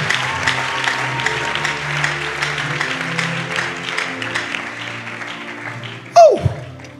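A church congregation claps loudly and continuously in a dense, steady wash of applause that carries on for several seconds, then ends in a sharp, loud burst near the end.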